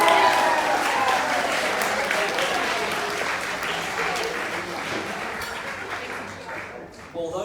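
Wedding reception crowd applauding the groom's parents, a full, dense burst of clapping that starts strong and gradually thins and fades toward the end.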